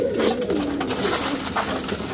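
Pigeons coo steadily and loudly at close range while being fed grain, low rolling calls overlapping throughout with no talking.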